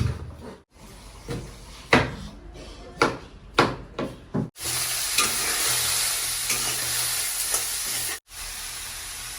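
Crab frying in a pan for a Tamil-style crab curry: several sharp scrapes and knocks of a spoon stirring against the pan, then a steady loud sizzle of hot oil as the crab pieces cook, with one brief break.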